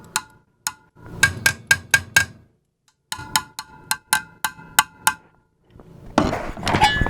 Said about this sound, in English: if you knock on the front, it's hard glass